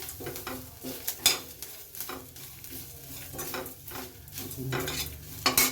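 A spoon stirs and scrapes ingredients in a pan as they roast lightly for a village-style chicken sambar, with soft sizzling and repeated clinks of utensil against metal at an uneven rhythm.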